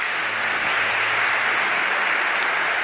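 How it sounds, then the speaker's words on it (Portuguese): A congregation applauds during a church service, a steady, even wash of clapping that holds at the same level throughout the short stretch, heard alone with no voices on top. "A você uma salva de palmas."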